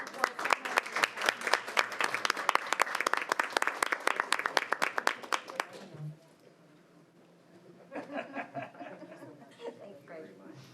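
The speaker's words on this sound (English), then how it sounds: "Another round of applause." Applause from the audience at a public school board of education meeting, about six seconds of dense, steady clapping that stops abruptly, followed by a quieter stretch of murmuring voices and faint laughter.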